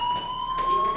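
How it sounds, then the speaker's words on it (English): Fire alarm going off in the Life Is Strange video game, a steady, piercing electronic tone held without a break and fairly loud, with no voices over it. "Hey, do you hear that fire alarm?"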